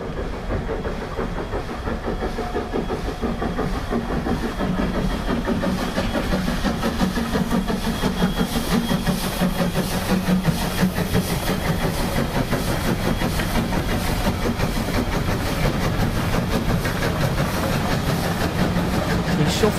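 A steam locomotive hauls a goods train, its continuous chuffing and hissing rumble steady and fairly loud throughout, with no talking over it.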